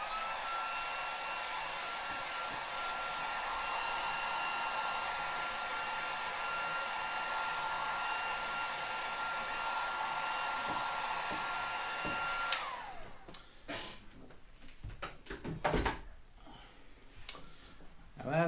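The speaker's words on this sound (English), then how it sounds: "just do one last run over it with the heat gun" Heat gun blowing hot air over a fishing rod sock, a steady whooshing hum that cuts off partway through, leaving faint handling clicks and rustles.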